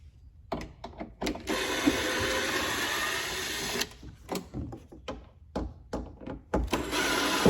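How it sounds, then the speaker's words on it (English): Torx 20 screws come out of a BMW E46 lock cylinder housing: short bursts of ratcheting, clicking tool mechanism, stopping and starting at close range. "there's some Torx 20s, I believe, there and there. And we're gonna remove those"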